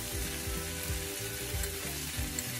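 Chicken pieces fry in a pan for dragon chicken, giving a steady, dense sizzle close by with faint scraping stirs throughout.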